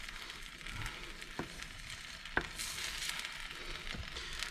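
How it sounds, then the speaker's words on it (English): A sunny-side-up fried egg for oxpytt (beef pyttipanna) sizzles in a pan, a soft steady crackle with a few sharp pops and spits over about four seconds. "put it on a plate and fry the egg"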